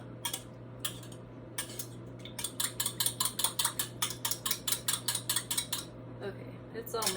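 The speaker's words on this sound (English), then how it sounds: "And then I'm just going to stir it up and mix it just a little bit." A spoon scrapes and clinks rhythmically against a bowl while a green bean casserole mixture is stirred, a steady run of close, bright clatters with a low hum underneath.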